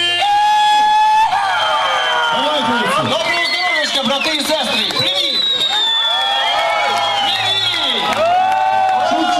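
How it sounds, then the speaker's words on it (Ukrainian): A crowd cheering and whooping at an outdoor biker rally stage in Uman, with loud, sustained shouts and whistles from many voices and scattered clapping, close and dense throughout. "Тож ваші бурхливі оплески!"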